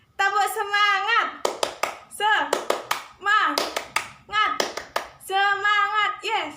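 A primary-school class joins in the 'tepuk semangat' hand-clapping routine, with loud clustered claps in a steady rhythm interleaved with chanted voices.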